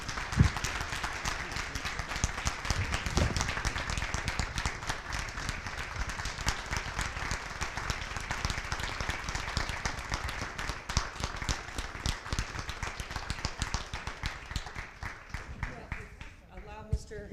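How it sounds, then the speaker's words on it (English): A large audience claps at a Board of Education special meeting, honoring a retiring member with a science wing named for him. The applause is long, dense and steady, and fades near the end. "Please give me a round of applause to appreciate it."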